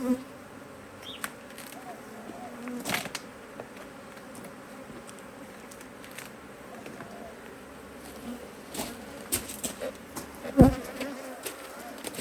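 A low, continuous buzz of honey bees droning close by during an early spring hive inspection, with occasional louder passes and faint clicks and bumps in the background.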